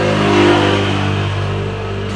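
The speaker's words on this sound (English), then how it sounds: "That was Mopeds." A moped engine revs loudly and close, holding a steady droning tone with a slight swell early on and then easing back a little.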